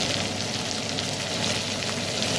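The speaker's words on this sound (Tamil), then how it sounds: "நம்ம வந்து நம்மளோட முருங்கைக்காயையும் போட்டு இதோட வதக்குவோம்" Drumsticks, the vegetable, sauté in a pan as a steady, dense sizzle that stays close and even throughout, with no talking.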